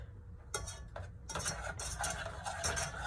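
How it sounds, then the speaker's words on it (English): A sauce being stirred in a pan until it emulsifies, with soft scraping and clinking of a utensil in irregular strokes over a low sizzle, close and quiet. "Basically stir this till it emulsifies"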